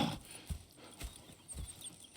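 Horses in the video game Red Dead Redemption 2 walk with soft, evenly spaced clip-clop hoofbeats, fairly quiet and close, with a faint background hum and no talking.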